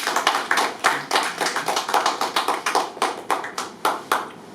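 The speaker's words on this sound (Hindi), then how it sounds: "जोरदार तालियां बजाएंगे इनके लिए।" Applause from a seminar audience on effective communication, a steady run of sharp hand claps with quick, uneven rhythm, fairly close and loud with no talk over it.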